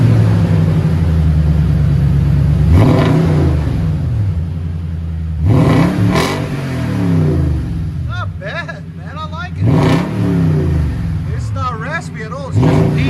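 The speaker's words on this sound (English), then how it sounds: "it's called a Dirty Deeds custom exhaust system for Toyota Tundra. I'll let you guys hear it in a second." A Toyota Tundra 5.7L i-FORCE V8 fitted with a Dirty Deeds custom exhaust idles with a deep rumble and revs in several sharp bursts, close and loud, with someone talking between the revs.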